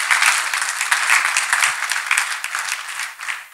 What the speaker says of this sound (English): clap hands for Jesus Christ